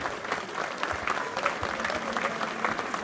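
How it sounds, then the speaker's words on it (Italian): An outdoor town event audience claps, a moderately loud, steady patter of many hands running throughout with slight swells, no voices over it. "Vorremmo sentire un applauso anche da questa parte di pubblico"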